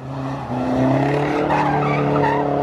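An Audi slides sideways in a drift, its tires skidding with a loud, sustained squeal over the engine's roar, close by.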